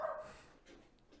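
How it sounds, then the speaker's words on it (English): Dogs barking after a garden hose was dropped on the ground, one short bark near the start followed by softer, fainter yips and whimpers fading off. "I got the dogs barking because I dropped the hose on the ground"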